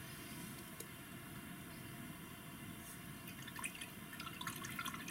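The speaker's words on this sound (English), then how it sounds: "And you just rinse your brush off in the water." Paintbrush rinsed in a cup of water, a quiet, continuous close swishing and trickling with small drips and splashes toward the end, no voices.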